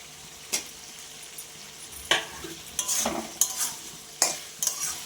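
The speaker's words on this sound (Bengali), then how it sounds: "এবার যে ইচোড়া আলুটা আমি ভেজে রেখেছিলাম এইগুলোকে দিয়ে দিচ্ছি" Fried jackfruit and potato pieces are tipped into a hot pan with spices and stirred, producing a steady sizzle broken by several scraping, clattering stirs, close and clear with no talking.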